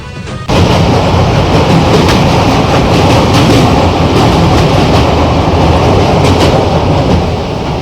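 A train running on rails near Rourkela, a loud, continuous rumbling clatter of wheels that starts abruptly and holds steady throughout.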